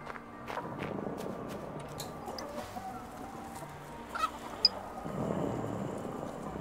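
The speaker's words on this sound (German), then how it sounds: "Das sind Chicken." Chickens cluck softly in a video game amid a light shuffle of footsteps and a few brief higher chirps, the sounds faint and somewhat distant, with no talking.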